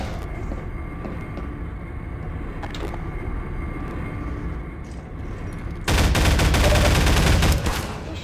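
Gunfire from a weapon in the Half-Life 2 video game, a loud rapid burst of automatic shots lasting under two seconds, ringing out after a stretch of quiet ambient game noise and a few faint clicks.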